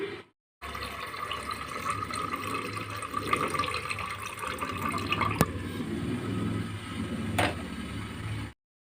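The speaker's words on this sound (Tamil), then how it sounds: "இப்போ நம்ம அதை கழுவி நல்லா எடுத்துக்கலாம் அரிசியை" Rice being washed in water for rasam in a home kitchen, a steady sloshing and rinsing of grains and water lasting several seconds, close and fairly quiet, with a couple of sharp clicks.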